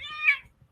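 A single short, clear cat meow sounds close by, rising and then fading quickly.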